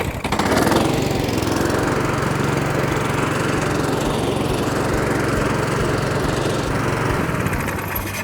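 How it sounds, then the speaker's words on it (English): A Cobra AirMow 51B hover cylinder lawn mower runs steadily on a garden lawn, a loud continuous engine drone with a buzzing hum held at even volume throughout, no talking. "And there you can see the AirMow 51B is so easy to use. It just glides along the lawn"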